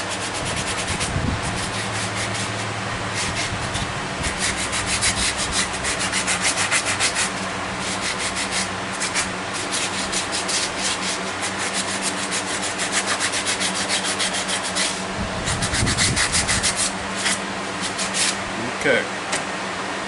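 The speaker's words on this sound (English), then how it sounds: "might as well sand this down while we're at it" A wooden gazebo-style bird feeder is sanded by hand, giving a continuous scratchy rubbing that rises and falls in strokes for about twenty seconds over a steady background hum.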